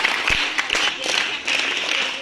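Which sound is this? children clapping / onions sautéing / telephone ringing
children clapping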